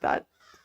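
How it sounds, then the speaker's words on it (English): A crow outside gives one loud, harsh caw followed by a fainter, softer call, both brief. "there's a murder of crows outside"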